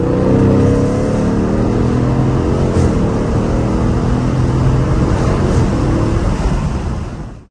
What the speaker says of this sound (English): Little third gear pull 3K right here.